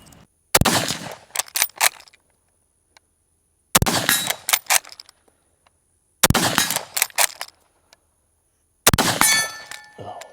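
Rifle rounds stripped from an M14 stripper clip into the magazine of an Ishapore 2A1 .308 Lee Enfield, heard as four separate bursts of sharp metallic clanks and rattles, each about a second long, with quiet gaps between them.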